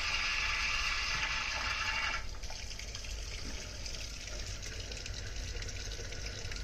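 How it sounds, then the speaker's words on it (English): Liquid being poured off a solid product during a chemistry practical, a steady splashing trickle for about two seconds that cuts off, leaving a faint hiss and low room noise. "So I'm going to pour it off and try and get as much as possible."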